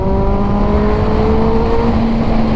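A Dodge car's engine revving hard under acceleration, heard loud and close from inside the car as a rising whine that climbs steadily in pitch over road rumble, with no talking.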